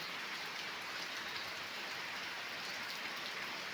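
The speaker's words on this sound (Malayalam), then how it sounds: "അതിഗംഭീരമായ സൂപ്പർ മഴയാണ് നമ്മൾ കണ്ടുകൊണ്ടിരിക്കുന്നത് കണ്ടോ" Heavy rain pours steadily, a dense, unbroken hiss of drops drumming on surfaces, moderately loud and without pause.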